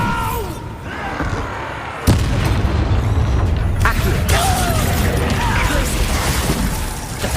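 A Bombarda spell blast in the video game Hogwarts Legacy gives a sudden loud boom near two seconds, then sustained rumbling combat noise with crashes and scattered magical effects.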